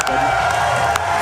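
A live gaming-marathon crowd at Summer Games Done Quick cheers and whoops loudly and continuously, a dense wall of voices with a sharp burst near the end.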